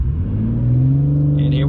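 A 2021 Ford F-150 Raptor truck in Baja mode accelerates hard, its engine note rising in a loud, close rumbling roar with a brief higher whine near the end.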